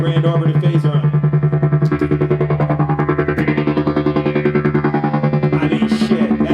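An electric bass runs through an EarthQuaker Grand Orbiter phaser and tremolo, so a loud, distorted sustained tone throbs in rapid, even pulses like helicopter rotor chop throughout.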